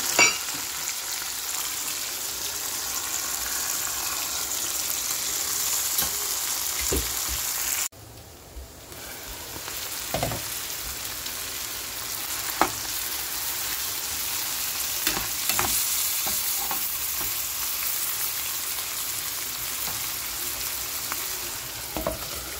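Vegetable peels hitting a spiced pan and stir-frying, a loud continuous sizzle with scraping stirs and clinks of a utensil, a brief dip in the hiss partway through, no talking.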